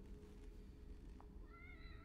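A cat meows in the video game The Evil Within: The Assignment, a single faint, brief meow near the end over a steady low hum of game ambience.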